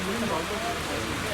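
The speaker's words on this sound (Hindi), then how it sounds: "हमारे देखते ही देखते एकदम से मूसलाधार बारिश शुरू हो गई" A heavy downpour of rain falls on the drive toward Murree, making a steady, soft hiss at moderate distance with a faint low hum beneath it and no voices.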